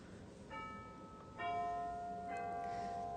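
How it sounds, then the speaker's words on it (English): Wind chimes ring out at a home bead-crafting table, clear sustained metallic tones entering in a few separate strikes that layer and linger, moderately loud against quiet room background. "I know those were my chimes."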